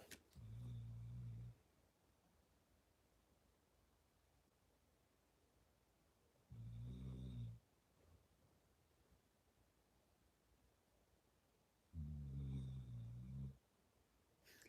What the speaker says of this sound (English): Dog snoring like usual.